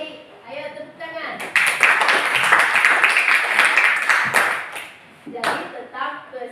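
Clapping from a class of students joined in a cheer, a sustained burst of rhythmic hand claps mixed with voices, fading briefly before a second shorter round starts.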